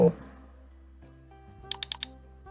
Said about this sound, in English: Type 1250 to it. Press enter on your keyboard.